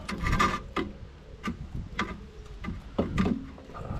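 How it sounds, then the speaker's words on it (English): Wind-back tool turning a rear brake caliper piston back in on a 2010 Kia Sorento XM AWD, a slow series of separate ticking, creaking clicks and rubs at close range. "just nice and steady, just wind the plunger in gently as far as it'll go"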